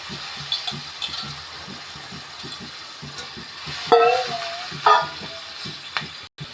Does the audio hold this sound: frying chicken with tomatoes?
yes